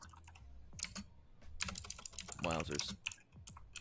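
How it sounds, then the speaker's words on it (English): A loud mechanical computer keyboard clatters with rapid irregular keystrokes and bursts of typing, heard close while a person briefly speaks over it. "Your keyboard is so loud."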